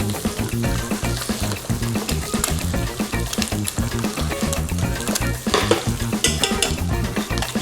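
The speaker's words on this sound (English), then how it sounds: "All you need to do is use this hot butter to baste the top of your egg, and that'll cook the top" Eggs frying in a pan as hot butter is spooned over their tops, giving a continuous crackling sizzle with scraping and stirring movements throughout, steady and close.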